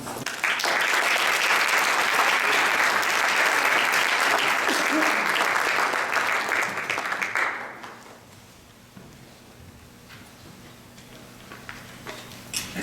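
Enthusiastic audience applause greets lecturer Miguel Roldan at an architecture lecture, a dense sustained clapping that fills the hall for about seven seconds before fading to quiet room tone with a few stray claps.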